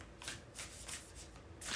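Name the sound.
shuffling a deck of tarot cards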